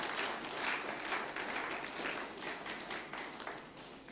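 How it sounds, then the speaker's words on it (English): A symposium audience gives steady applause, dense overlapping claps that hold at an even level throughout and come across faint and distant. "I think our guests deserve another very, very loud round of applause."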